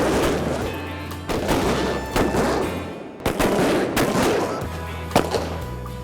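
Pistol shots crack out one after another in a staged Wild West gunfight, loud and close, each bang ringing and echoing before the next.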